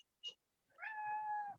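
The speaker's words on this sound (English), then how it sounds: "The cat's meowing, distracting me." A hungry cat gives a short chirp and then a long, clear, drawn-out meow, heard fairly close and faint in a quiet room with no talk.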